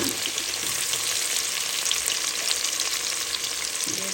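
Onions fry in hot oil with a constant, dense sizzling hiss that stays loud and even throughout, with faint scraping at the start and end and no voices.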